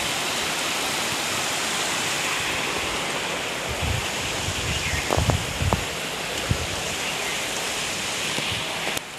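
A river in Bhutan rushing beneath a bridge, a dense, steady roar of flowing water heard from above, with a few faint knocks and rustles partway through.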